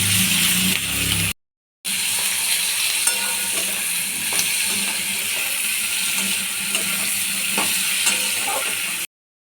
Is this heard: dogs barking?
no